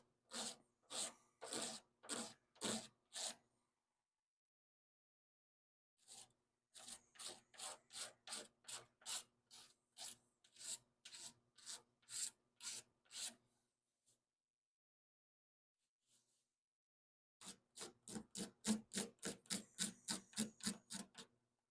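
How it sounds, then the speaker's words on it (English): Razor blade scraping partly cured Duraglas body filler, rapid rhythmic rasping strokes in bursts of a dozen or so, close and crisp, separated by silent pauses. "I'm able to slice that off with the razor blade"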